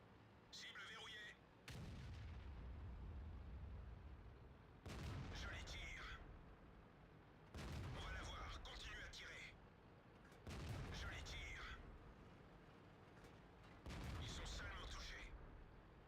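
Five loud cannon blasts from World of Tanks, the Batchat and its opponents trading fire in a close-range fight, each a sharp boom with a rumbling tail, spaced about three seconds apart with game chatter in between.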